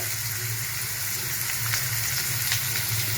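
Chopped onions fry in a pan for a home-cooked dinner, giving a steady, continuous sizzle that stays even and close throughout, with no talk.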